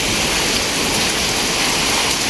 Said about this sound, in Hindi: ये देखो, ये है बारिश।